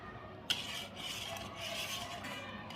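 A spoon stirs powdered fennel into fennel sharbat with a sharp clink against the vessel, then faint, continuous swirling and scraping with light metallic touches, quiet and close.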